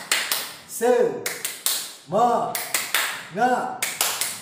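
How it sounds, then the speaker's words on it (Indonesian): A classroom group performs a rhythmic clapping chant, sharp unison claps in a patterned beat, with children's chanted voices rising between the clap bursts. "Siap, tepuk semangat."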